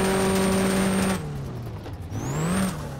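A Chevrolet Camaro ZL1 race car with a 5.8 engine revs loud and close in a no-limit drag racing setting, a steady high whine breaking into a lower, throaty roar that dips and swells again.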